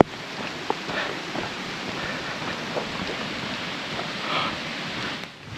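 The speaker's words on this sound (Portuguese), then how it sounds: "começou a chover só quando eu tô fazendo um trecho" Steady rain falling on an open hiking trail, a broad continuous hiss with scattered soft drop ticks, close and even throughout, with no voices.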